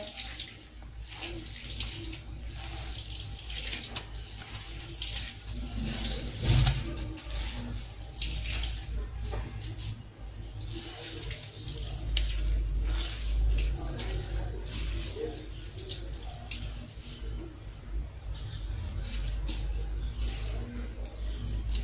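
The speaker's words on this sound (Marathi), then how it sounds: "ही धुवून ठेवलेली भाजी आता चांगली हलक्या हाताने अशी पिळून घ्या।" Washed mustard greens are squeezed by hand over a sink, and water runs and splashes in a continuous, moderately loud stream with scattered drips for about twenty seconds, with a voice speaking faintly underneath.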